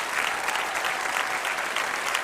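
A congregation at a church sermon claps together in loud, dense applause, a continuous crackling wash of many hands that stays even throughout with no talking over it.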